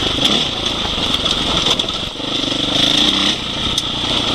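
A Husqvarna 701 Enduro motorcycle's engine drones steadily while riding over rutted ground, loud and close with wind rush and small changes in throttle.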